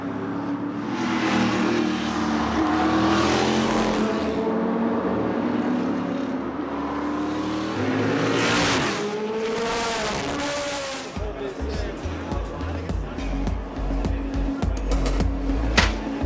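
Spice sports-prototype racing car at the Spa-Classic historic race, engine roaring loud and sustained with shifting pitch as it passes, other racing cars audible around it.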